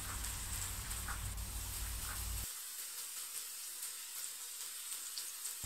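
Bitter gourd slices frying in a pan on medium heat, a steady soft hiss of sizzling oil that runs throughout, with a low hum dropping away partway, quiet and close, no voices.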